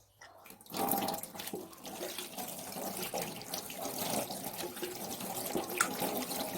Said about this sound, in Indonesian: Bilaslah di bawah air yang mengalir.